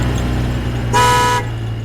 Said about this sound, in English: some idiots in a cheap pickup truck drove by and honked at me